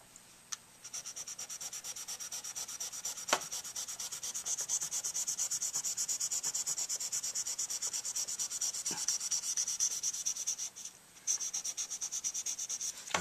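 Steady back-and-forth rasping of 600 grit sandpaper rubbing a handmade tenor sax mouthpiece, close and continuous with a short pause near the end.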